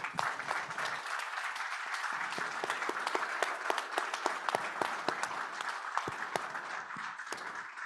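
Audience applause at a European clean tech and climate policy debate, a steady wash of many hands clapping throughout with crisp individual claps standing out, sustained at even loudness.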